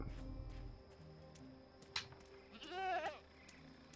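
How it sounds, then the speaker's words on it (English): A goat in the game Dreamfall Chapters gives a single loud wavering bleat near the end, set over low steady ambient game hum with a few soft clicks earlier. "The goat."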